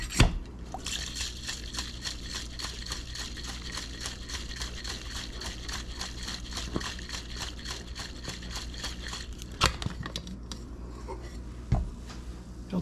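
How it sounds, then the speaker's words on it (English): A Humuhumunukunukuapua'a cocktail is dry-shaken in a shaker without ice, giving a fast, steady, rhythmic sloshing rattle close up that runs unbroken for several seconds, with no talking. "I'm going to shake this dry."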